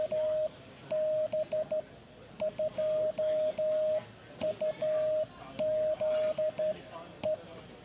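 A call sign in Morse code sent on a straight key, a steady single-pitch tone beeping in irregular dits and dahs grouped into letters with pauses, over faint background noise.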